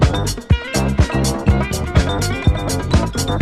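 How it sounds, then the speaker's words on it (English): A sample from the 1978 Motown Sounds record Bad Mouthing plays loudly: a driving disco groove with punchy kick drums on a steady beat, crisp hi-hats and a busy bass and instrumental backing, without any talking. "gave him this sample from a 1978 record by Motown Sounds called Bad"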